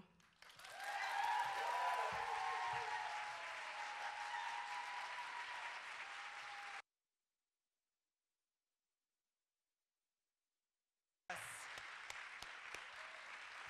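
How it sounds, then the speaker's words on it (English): An audience at a talk applauds, swelling quickly into loud, sustained clapping that holds for several seconds, breaks off briefly, then resumes. "I heard some claps"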